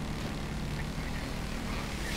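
A Buzzard attack helicopter in GTA 5 drones steadily throughout, a continuous low engine and rotor rumble with a hissing wash on top, fairly close and with no talk over it.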